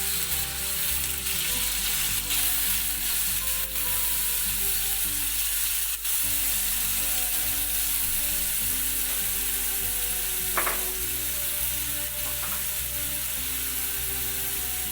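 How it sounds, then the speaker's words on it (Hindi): Continuous crackling sizzle of chicken and yogurt frying in a pan for korma, with a low steady hum and occasional clinks of stirring. "फिर हम दही का पानी खुश्क होने तक इसे फ्राई करेंगे।"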